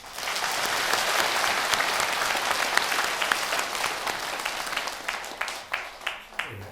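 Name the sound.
audience applause at temple dharma talk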